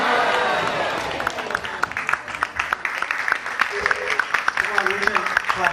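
An audience at a Rama Navami devotional drama claps after the performance, applause fading and turning into scattered individual claps while voices murmur underneath.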